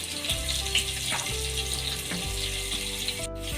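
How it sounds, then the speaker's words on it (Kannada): Finely chopped onions frying in hot oil, a steady close sizzle with faint clinks and scrapes of a utensil against the pan, no voices. "ಈಗ ಎಣ್ಣೆ ಕೂಡ ಬಿಸಿಯಾಗಿದೆ ಇದಕ್ಕೆ ನಾನು ಸಣ್ಣ ಕಟ್ ಮಾಡ್ಕೊಂಡಿರೋಂಥ ಈರುಳ್ಳಿನ ಹಾಕೋತಾ ಇದ್ದೀನಿ"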